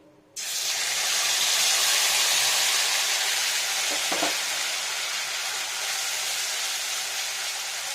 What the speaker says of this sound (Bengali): এবার আমি এখানে দিয়ে নেবো ওই পেস্ট মশলাটা